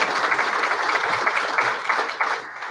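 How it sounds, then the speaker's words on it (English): A meeting audience at an API Houston chapter gathering claps for the panelists, producing a steady, dense patter of many hands that holds evenly throughout without voices. "So round of applause for the panelists"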